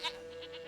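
A goat in The Witcher 3 video game gives a short, faint bleat over a low, steady in-game background hum.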